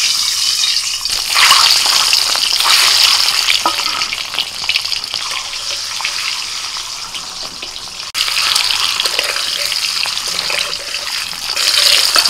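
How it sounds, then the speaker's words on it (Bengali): Eggs rubbed with salt and turmeric go into hot oil and fry with a loud, continuous crackling sizzle. The sound briefly dips, then surges again. "তেল গরম হয়ে গেছে, এখন ডিমগুলো ছেড়ে দিচ্ছি।"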